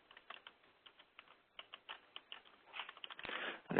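Quiet, steady tapping on a computer keyboard as a title is entered, a run of soft close keystrokes ending in a louder rush of noise.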